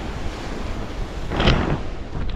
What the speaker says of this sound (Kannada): ಈ ಸಮುದ್ರದ ಅಲೆಗಳು ಎಷ್ಟು ಸದ್ದು ಮಾಡ್ತಾ ಇದೆ